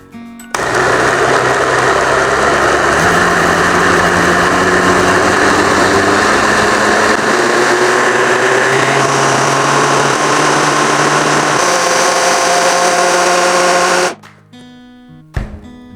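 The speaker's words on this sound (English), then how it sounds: "We need to let it cool down a bit before we put it on a blender and then mix it up." A kitchen blender whirs loudly and steadily, blending cooked butter chicken curry with a little added water, its motor pitch shifting slightly as the mix churns, then cutting off near the end.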